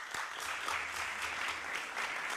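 Members in the House Rules Committee room give a round of steady applause, soft and somewhat distant, holding evenly without voices.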